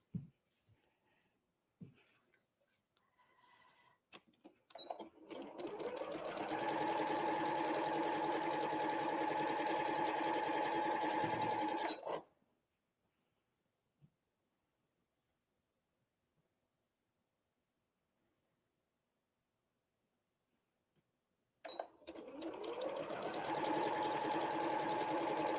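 Sewing machine stitching quilt strips together in two runs: a steady close whir of about six seconds, a long silent pause, then the motor starting up again.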